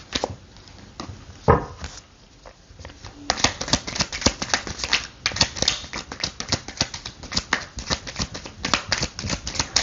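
Tarot cards are shuffled and handled during a Cancer-sign love reading, giving a dense run of crisp papery flicks and slaps that starts sparsely, then becomes rapid and steady at close range with no talking.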